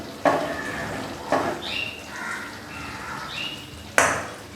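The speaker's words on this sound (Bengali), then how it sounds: "এবার একটু নাড়িয়ে দিলাম আমি।" A spoon scrapes and clinks against a cooking pot while rice is stirred in oil for Kolkata-style chicken biryani, three sharp metallic knocks spaced apart with soft scraping and faint ringing in between, close up.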